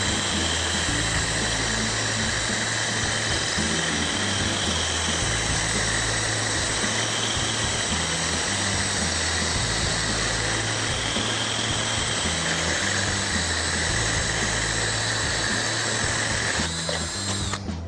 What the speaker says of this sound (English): So that's a hole into a glass vase. So it drills through glass.